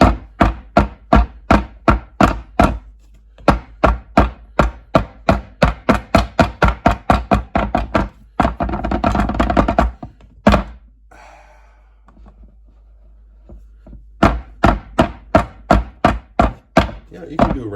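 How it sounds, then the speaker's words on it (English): A bundt cake pan tapped repeatedly on a hard surface, with steady rounds of loud, hollow thunks, then a noisy pause with a few stray knocks before another quick series of taps. "Now you're going to want to tap this bunt pan"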